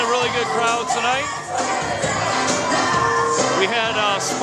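A wedding crowd at a DJ dance party cheers and shouts loudly and continuously, voices overlapping in a dense, lively roar that fills the whole stretch.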